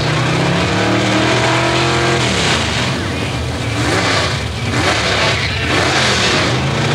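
A Chevrolet Chevelle drag race car at the 1984 ET Superstakes revs loudly at the starting line, its engine roaring and surging continuously while a track announcer talks over the noise.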